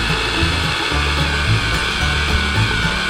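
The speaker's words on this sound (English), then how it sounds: "you get a big enough drill," A heavy power drill grinds steadily through a tree stump, a low continuous churning drone with slight rhythmic rubbing.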